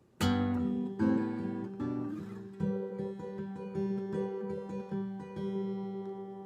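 Acoustic guitar fingerpicked through the intro of a song, clear plucked notes over a ringing open string, with several firm accented attacks across six and a half seconds, played alone and close.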